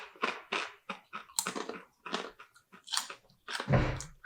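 Nacho Lunchables round tortilla chips, dipped in salsa, are bitten and chewed up close, giving a fast series of sharp, dry crunches in quick bursts with short pauses between them.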